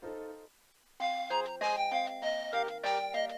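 A bright synthesized ringtone melody from the video game Steins;Gate plays as a phone mail alert: a short lower phrase, a brief pause, then a louder, higher run of beeping tonal notes, clear and alone.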